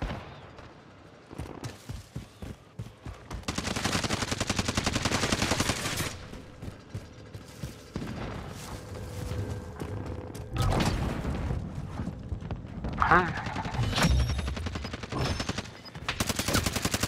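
Heavy automatic gunfire in a Warzone battle royale match crackles in repeated loud bursts with short pauses between, some shots close and sharp, others trailing off, with little talk.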